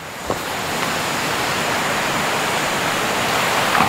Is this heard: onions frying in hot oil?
no